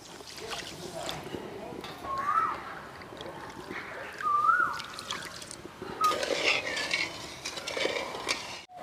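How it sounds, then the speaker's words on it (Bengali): Water pours into a bowl of sugar to make a thin syrup, a close, continuous gurgling trickle with small splashy bursts throughout. "এই বাটির মাপেই আমি দেড় বাটি জল দিয়ে দেবো"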